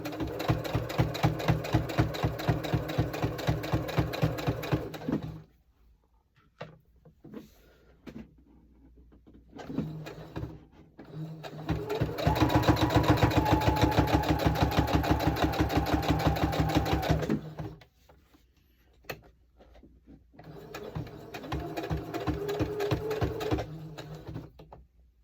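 A sewing machine stitching fabric coasters runs in three long bursts of rapid, even needle chatter, stopping and starting between them with small clicks and handling noises during the pauses.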